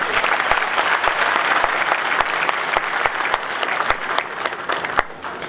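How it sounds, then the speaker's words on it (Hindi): Crowd at a workers' union rally claps loudly and continuously, a dense burst of applause with some sharp individual claps standing out. "ये तो अफसरान के लिए जो है ना तालियां बजनी चाहिए"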